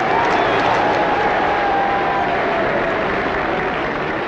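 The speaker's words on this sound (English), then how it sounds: "When they return to the grid, the crowd goes wild." A racetrack crowd roars as Formula One cars, including James Hunt's, return to the grid, a continuous dense wash of cheering and applause, broad and distant-sounding, with no clear voices.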